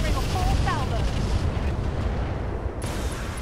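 Mech weapons fire in the BattleTech mod Roguetech, a heavy continuous roar of blasts and rumbling impacts, loud and close, with a few bright electronic chirps above.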